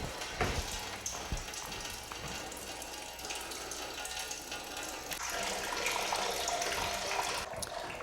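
Antifreeze coolant pours steadily out of a Lotus car's radiator with the cap loosened, a continuous close splashing gush like a running tap that holds constant and swells slightly louder toward the end, with no talking.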